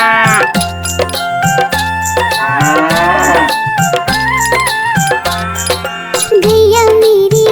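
A cow moos repeatedly over a bouncy Hindi children's rhyme backing track, with a cartoon-style bovine call rising above a steady beat and melody, loud and upfront throughout.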